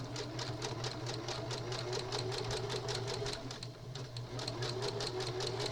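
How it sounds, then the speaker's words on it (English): A sewing machine stitches a zigzag with colorful thread, its needle ticking in a fast, even rhythm under a steady motor hum, close and continuous with one brief slowdown near the end. "I'm going to just sew with this zigzag colorful thread. And I'm just going to start sewing."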